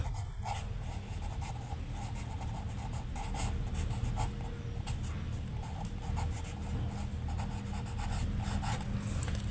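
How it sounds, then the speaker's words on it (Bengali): Tally marks written by hand, repeated short scratchy pen strokes in quick bursts over a steady low background hum, close and fairly quiet, with no speech. "পরে লিখব টালি চিহ্ন, পরে লিখব শিক্ষার্থীর সংখ্যা।"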